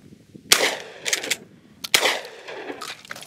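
Handgun shots fired outdoors at thrown clay targets, two sharp loud cracks about a second and a half apart, each with a short ringing tail.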